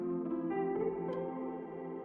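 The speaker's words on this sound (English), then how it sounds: "delay that can turn into a reverb" A delay effect with feedback turned up gives a sustained, shimmering tone with echoing repeats that blur into a dense, ambient reverb wash, steady and fairly quiet.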